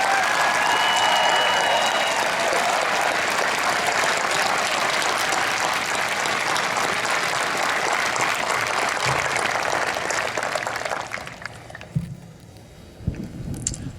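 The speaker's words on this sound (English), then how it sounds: "Would you please join me in a round of applause for our international shipmates?" A large outdoor crowd at the Coast Guard Academy commencement applauds in a loud, steady wash for about eleven seconds, then the clapping thins out and fades into scattered claps.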